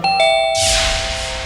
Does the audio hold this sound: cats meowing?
no